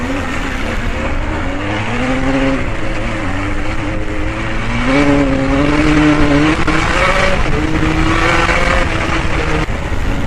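Prototype race car at a cross racing event in Antoing, its engine droning loud and continuous with rising and falling revs over rough, bumpy, slippery dirt, no talk.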